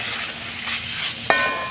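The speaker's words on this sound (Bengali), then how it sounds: "কষিয়ে নিচ্ছি আমি" Tomatoes and spices for an apple paneer curry being sautéed in a pan, a close steady sizzle with a brief scraping stir and one sharp clink of a utensil near the end, no voices.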